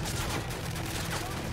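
Gunfire in Call of Duty MW3 rattles steadily as a dense, busy barrage, with a faint voice mixed under the shots.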